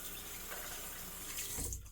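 Water runs steadily from a tap into a sink, a continuous close splashing hiss that gets louder and more turbulent toward the end.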